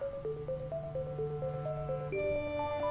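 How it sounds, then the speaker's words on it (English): Short clarinet-like game melody from The Legend of Zelda: Link's Awakening, a bright stepping tune of sustained notes over a steady low drone, with a chiming change partway through, played alone at moderate loudness. "that clarinet that you just heard right there sounded like my phone was going off"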